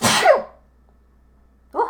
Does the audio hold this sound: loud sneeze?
yes